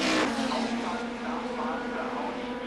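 An Audi V8 race car in a German Saloon Car Championship round drones past at high engine pitch, a steady loud roar that fades slightly, with faint commentary-like voice underneath.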